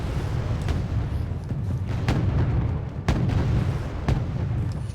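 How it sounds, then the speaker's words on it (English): Incoming anti-ship missiles exploding in the wargame Wargame Red Dragon, a run of booming impacts, four or five sharp blasts spaced about a second apart over a heavy rumbling low roar, fairly loud and with no voices. "More anti-ship missiles coming in now."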